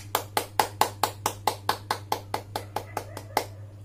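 Children clap their hands in a nursery-class warm-up, about sixteen sharp, evenly spaced claps in a quick steady rhythm over a low electrical hum.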